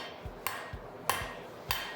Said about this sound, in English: so as you're hammering one side, the anvil is kind of smoothing out the other side